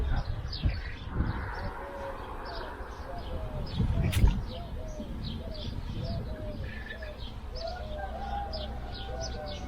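A young turtle dove, injured and fallen in front of a house door, with soft cooing and bird calls among other chirps outdoors, steady background ambience and people talking nearby.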